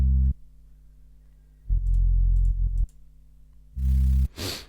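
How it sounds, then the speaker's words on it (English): Sub bass synth in an electronic music production plays deep, sustained low notes in three separate bursts with pauses between, ending with a short burst of noise, alone and fairly loud. "A sub bass."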